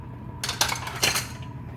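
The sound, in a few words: lid put on a frying pan with omelette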